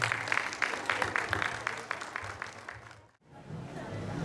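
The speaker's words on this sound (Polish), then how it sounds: "duże brawa dla oznaczonych rolników" Farmers being honoured at a district and municipal harvest festival (dożynki) in Kopcie draw a round of outdoor applause, steady clapping that fades out after about three seconds, over a low hum.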